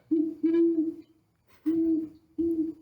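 Owl hoots in a sound guessing game: three distinct, clear hoots with short pauses between them, fairly loud and alone with no talking.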